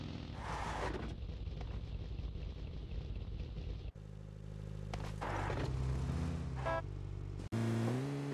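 Car engine driving in the mobile game PUBG Mobile Lite, a continuous loud engine drone with shifting pitch and revving, broken by brief cuts and game sound effects.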